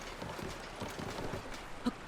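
A horse's hooves clop in Tears of the Kingdom, a quick run of soft, muffled steps over faint ambient game noise, with no voices.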